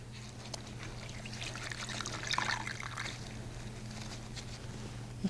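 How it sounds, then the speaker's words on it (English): Washcloths are dipped into a basin of water during a full bed bath, giving a soft, continuous splashing and trickling over a steady low background hum, fairly faint, with no talking. "I can put all 4 washcloths into the water."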